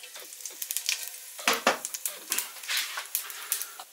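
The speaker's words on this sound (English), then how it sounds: "into my hot oil goes my panch paran and cinnamon. And swirl that around, let that sizzle." Panch phoron spices and cinnamon sizzling in hot melted coconut oil for a chicken curry, a close, bright crackle with quick pops and bursts as the pan is swirled, no talking.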